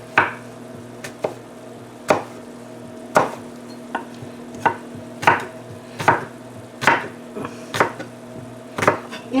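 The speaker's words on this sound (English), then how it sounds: "Interesting to watch people chop food." A knife chopping acorn squash on a cutting board gives sharp, close thuds at a steady, slightly uneven pace, about fifteen cuts over a low kitchen hum, with no voices.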